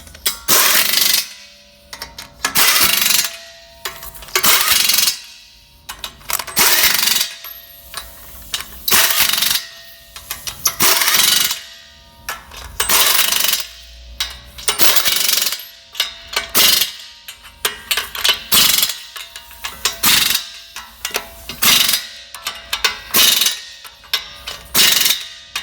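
An impact wrench hammers bolts tight during repairs on a wood chunker built for woodgas, firing loud, close bursts of rattling impacts in repeated one-to-two-second runs separated by short gaps.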